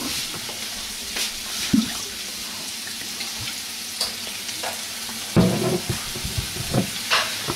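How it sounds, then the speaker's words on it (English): White wine splashed into a cast iron skillet of olive-oil-fried shrimp sets off a loud sizzle and steamy bubbling, with stirring scrapes and a sharp burst of hissing partway through. "all I'm gonna do now is drop a touch of white wine in there"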